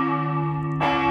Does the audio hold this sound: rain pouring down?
no